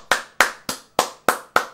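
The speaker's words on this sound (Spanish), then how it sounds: "¡Aplaudid todos! ¡Aplaudid, aplaudid!" Six sharp hand claps ring out at an even, steady pace, close and crisp, each with a short fading tail and nothing else heard between them.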